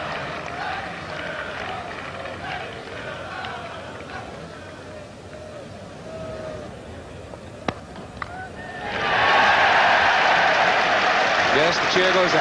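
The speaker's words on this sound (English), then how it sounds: "the cheer goes up and Neil Fairbrother gets his half-century." Cricket crowd at the 1986 NatWest Trophy Final, Sussex v Lancashire, cheering a batsman's half-century: a commentator talks over low ground noise, then a loud swell of cheering and applause rises and holds.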